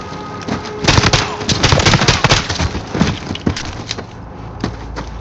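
Dense gunfire from Call of Duty: Modern Warfare, a sustained barrage of loud overlapping shots, bursts and impacts with crashing debris, continuing throughout at close range.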